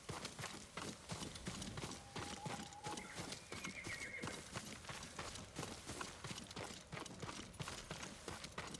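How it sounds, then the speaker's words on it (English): Horse in the video game Ghost of Tsushima, steady clip-clop of hooves with a couple of whinnies rising above them, all at moderate distance and fairly quiet. "Yuriko's horse. She can't be far."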